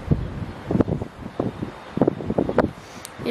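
Gusty wind buffeting the microphone in irregular bursts, rumbling and rustling close up with brief quieter gaps between gusts.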